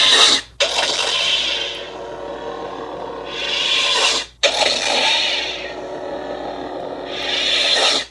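A lightsaber sound font, Son of Corellia by Kyberphonic Fonts, ignites with a quick spurt and then hums in loud, whooshing swells, with sharp cutoffs before each fresh ignition.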